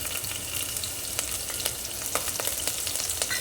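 Chopped green chillies and curry leaves sizzle in hot oil with a little cumin, a steady close crackle punctuated by sharp spitting pops throughout, with no voices.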